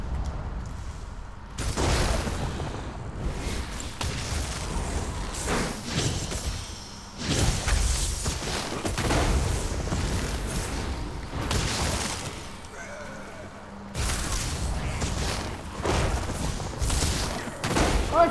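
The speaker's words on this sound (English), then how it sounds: "The powered up crystal attack is very potent." In The Elder Scrolls Online, a powered-up crystal attack goes off as repeated loud whooshing blasts and booming impacts in dense waves, with brief lulls between them.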